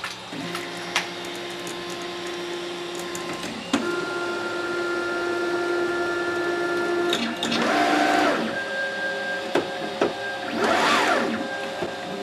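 A 3D printer runs a G29 auto bed leveling routine, giving a steady stepper-motor hum with tonal whines, short clicks as the probe touches down, and two louder buzzing sweeps of movement, close and with no voices.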